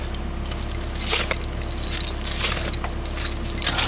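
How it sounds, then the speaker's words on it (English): Shards of broken glass clink and jingle in scattered bursts as dirt is dug through at an excavation, heard over a steady low hum outdoors on a cold day. "Broken glass."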